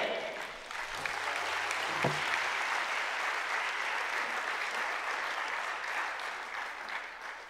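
A church congregation at a revival service applauds, a steady, full round of clapping from many hands that holds for several seconds at moderate loudness, with a few faint voices underneath.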